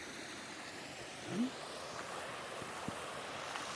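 Water from a waterfall in the Deokgu hot spring valley flows with a faint, steady, distant rush, mixed with light wind and a brief murmur.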